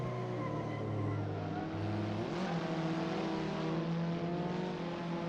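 A Caterham race car engine in the Assetto Corsa racing game labours uphill at Mugello, holding a steady buzzing drone that drops in pitch partway through as the driver downshifts, then carries on revving at a constant level.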